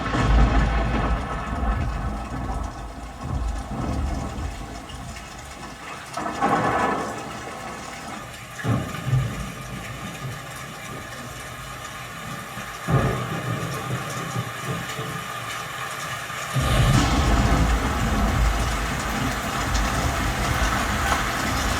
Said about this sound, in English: let's go down to the Rainstorm again